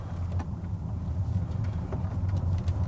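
A Mercedes EQS 450+ rolls over a gravel road, a low steady rumble of tires with faint scattered crunches and light wind noise, no voices, the cabin otherwise quiet.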